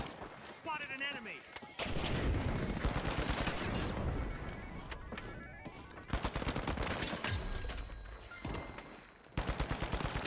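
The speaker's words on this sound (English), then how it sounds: "You're shooting with a shotgun from there." Shotgun fire in The Finals video game, heavy blasts and dense gunfire layered with loud game action, close and sustained with a few sharp bursts and brief lulls.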